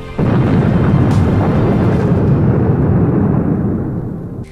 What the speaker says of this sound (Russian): Сейчас бабахнет! По-настоящему бабахнет!